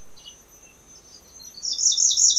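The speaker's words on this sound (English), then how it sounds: "Here, a bird is singing in my garden in Thailand." A grey-breasted prinia sings high, thin chirping phrases that grow louder toward the end, alone against quiet background in a garden in Thailand.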